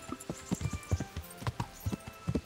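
Horse hooves clip-clop at a steady trotting rhythm while riding in the medieval game Kingdom Come: Deliverance, close and distinct over soft ambient background.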